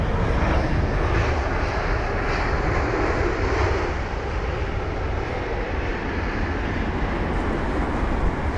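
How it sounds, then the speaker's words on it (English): A Middle East Airlines Airbus A321neo from Beirut touches down smoothly at London Heathrow, its engines a steady loud roar with broadband rushing noise that holds throughout, with no voices. "this Middle Eastern Airlines A321neo from Beirut, a 5-hour and 24-minute long journey. What a smooth landing."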